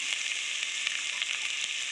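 Round slices of bitter gourd fry in hot oil in a pan, a steady close sizzle with faint crackles throughout.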